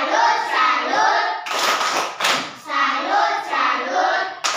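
A group clapping a salute cheer in a classroom, rhythmic bursts of hand claps alternating with chanted voices in a call pattern, close and lively.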